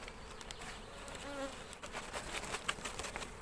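Honeybees buzz at a three-storey beehive, a close, fairly faint hum with individual bees passing by, one brief whine rising and falling partway through.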